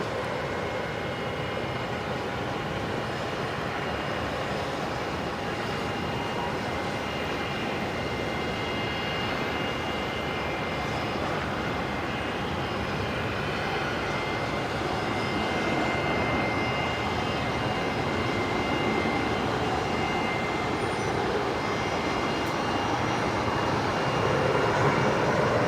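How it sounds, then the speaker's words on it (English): A Qantas airliner inbound from Melbourne arriving at Brisbane Airport at night: a continuous broad jet-engine roar, steady and moderately distant, swelling slightly louder toward the end, with no talk. "the Qantas 634 next arrival from Melbourne"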